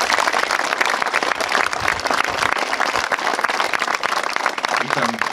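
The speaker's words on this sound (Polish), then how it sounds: "Bardzo proszę o gorące oklaski." Sustained applause from an outdoor crowd at the opening of a stadium and sports pitch in Wydminy, dense steady clapping that continues throughout.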